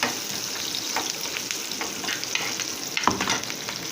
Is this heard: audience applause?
no